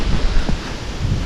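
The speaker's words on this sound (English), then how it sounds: "it's windy, but super windy" Strong, gusty wind blows outdoors, a steady broadband rush with a few low buffeting thumps against the microphone, loud and close throughout the short stretch.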